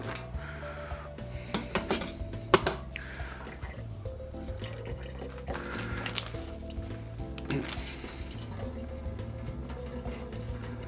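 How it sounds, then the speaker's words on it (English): Liquid drains from a cut plastic bag of salmon being prepared for smoking, with wet trickling and squishy handling, bag rustle and a few knocks against a sink, fairly quiet and close, without speech. "cut it here so I can drain some of the liquid out"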